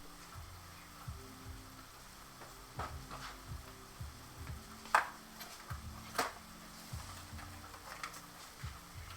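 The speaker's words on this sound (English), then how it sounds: "Put some water in here. Bring this down a little bit. Give it a simmer." Curry bouillon simmering in a pot of water for udon curry, a steady soft bubbling and sizzling hiss with scattered small pops and occasional louder clinks, alone with no talk.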